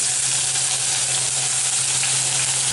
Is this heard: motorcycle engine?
no